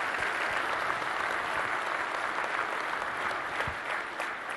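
Sustained applause from a conference audience for the manager of a wildlife refuge system, a thick, even wash of many hands clapping at moderate distance, steady throughout.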